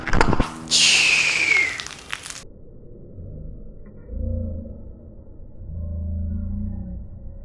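A DHMO water rocket launches with a short broadband whoosh and hiss right after the count, then the scene settles into low rumble and muffled movement.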